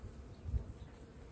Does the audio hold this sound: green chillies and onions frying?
no